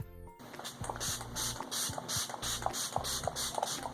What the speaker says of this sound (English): I'm actually going to spray my face down with the MAC Fix Plus setting spray.